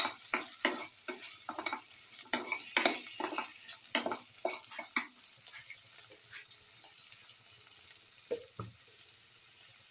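Chili powder is stirred into okra in a frying pan, a quick run of scraping, clattering strokes over a faint sizzle that slows and fades into quieter scattered taps.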